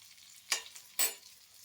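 Red chili powder frying in a little oil for a brinjal dish, heard as two short bursts of sizzling stirs over a quiet background.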